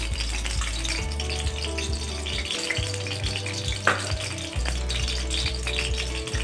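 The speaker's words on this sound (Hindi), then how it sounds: "अब इसमें मैं तीन चम्मच घी डालूंगी।" Ghee heats in a hot pan, giving a soft, steady frying crackle with intermittent light scraping and rattling of utensils, fairly quiet and without talk.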